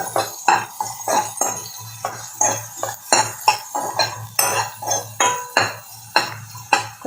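Big chopped onions stirred in a pan with a metal utensil for fish curry, giving a steady run of close, loud clinks and scrapes about twice a second, with a low hum underneath.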